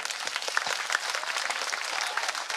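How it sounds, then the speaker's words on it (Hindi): An audience at a Hindi comic poetry gathering, a hasya kavi sammelan, claps in a steady, crowded burst, loud and continuous for a couple of seconds with no talk over it. "एक बार ताली बजाकर बता दो"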